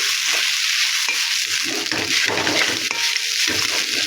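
Poha upma being stirred in a frying pan, a close steady scraping sizzle with soft irregular stirring strokes and no voices.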